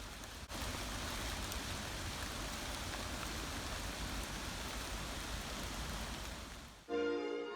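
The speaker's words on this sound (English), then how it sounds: "Well, here comes the rain." Steady rain pours down outdoors during an October half-term outing, a dense, constant hiss of drops hitting surfaces that holds loud and even for several seconds before cutting off abruptly.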